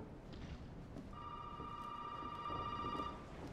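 Telephone ringing in the horror video game Resident Evil 7, a single sustained electronic ring tone lasting about two seconds, faint over low background ambience.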